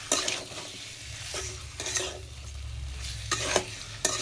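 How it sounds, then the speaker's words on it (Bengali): Chicken pieces for a potato kosa curry stirred and fried in spice masala releasing oil, a continuous sizzle broken by repeated scraping strokes of a spatula against the pan, close and fairly loud, with no talking. "মাংস দিয়ে আমি এখন নাড়তে থাকবো।"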